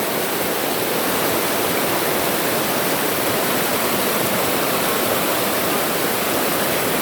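Strong river current rushing at night, a loud, dense and unbroken roar of turbulent water close by that stays constant throughout with no voices.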